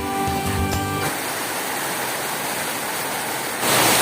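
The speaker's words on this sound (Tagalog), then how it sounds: "Hindi na nagpapigil yung ulan" Rain pours down in a dense, steady hiss of broadband noise, swelling louder toward the end, with a brief tonal hum at the start.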